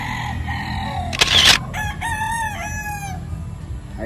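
A grey gamecock rooster crows loudly and close by, a long rising-and-falling cock-a-doodle-doo over a steady background of other fowl and farmyard noise.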